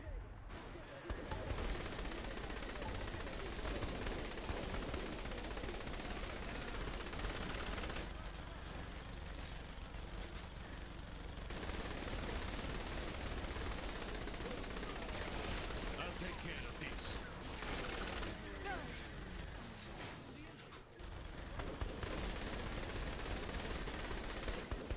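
A minigun in Saints Row 3 fires long, dense sustained bursts that roar for several seconds at a time, with short breaks between bursts and game noise underneath.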